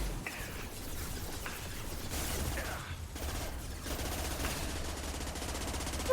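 Sustained automatic gunfire from the video game Mass Effect 2 rattles on continuously in dense rapid bursts at a steady, fairly loud level, with faint voices beneath.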